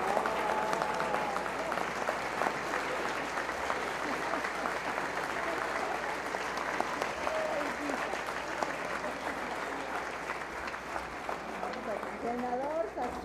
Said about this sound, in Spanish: Aplauso para la secretaria.